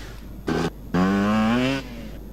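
A toy car drives off in a video game with a short buzzing motor burst, a pause, then a longer whine that climbs slightly in pitch before cutting out, over a steady low background hum.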